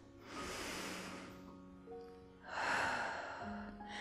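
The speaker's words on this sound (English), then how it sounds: "Nice big breaths here." Deep breathing during a Pilates resistance-band stretch on a reformer, two long audible breaths, a slow airy exhale followed by another deep breath, close and soft, with a faint tonal hum beneath.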